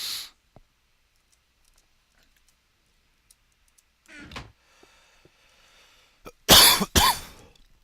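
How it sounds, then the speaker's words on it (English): A man coughs while playing a Minecraft-style game: a few faint clicks, then a short throaty cough, and finally a loud, close double cough near the end. "you guys are going to have to deal with me coughing for the next couple of hours"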